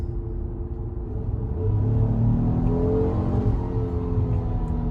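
A Ford twin turbo truck with a 6-speed transmission, in standard mode, accelerates in third gear from about 30 mph; a low rumbling engine note swells after a couple of seconds as its tone climbs steadily, heard from inside the cab.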